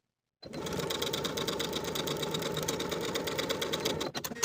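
A domestic sewing machine stitches a dress sleeve seam at a 3/8-inch allowance in one fast, steady burst of needle clatter lasting about four seconds. The motor then stops with a few short stuttering bursts, and no one speaks.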